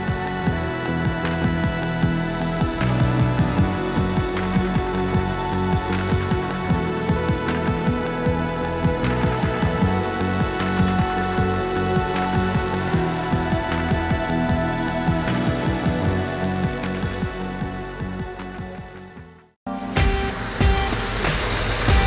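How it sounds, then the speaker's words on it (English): A loud Honda D16A engine in a Civic EK runs steadily with a dense, droning hum. It cuts out abruptly near the end, then a brief burst of different noise follows. "That is the sound of this engine running"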